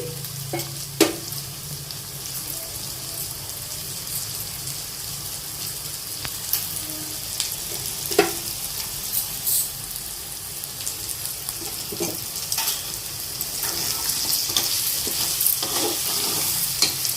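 A crab curry cooks in a pan with a steady close sizzle and bubbling, while occasional sharp stirring scrapes and clinks of a spoon against the pan break through at intervals.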